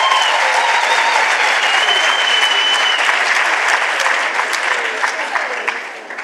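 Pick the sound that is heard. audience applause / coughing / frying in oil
audience applause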